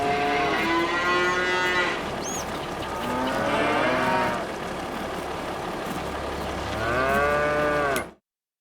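Cattle in a cow barn in a farming video game moo repeatedly, several long drawn-out calls at steady intervals over a low constant background hum, with no talk.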